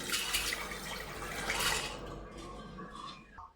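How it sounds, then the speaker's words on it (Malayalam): Water pours into a pot for a bottle gourd and lentil curry, a full rushing splash for about two seconds that then thins to a quieter trickle and stops. "നമുക്ക് ആവശ്യത്തിന് വെള്ളം ഒഴിക്കാം"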